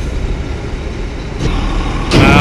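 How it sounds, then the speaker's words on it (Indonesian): Heavy trailer truck engine rumbling loudly at close range while loading a giant pipe onto a ferry at a busy night dock, a steady roar that swells near the end with a burst of hissing, no talking. "trailer nih muat pipa raksasa"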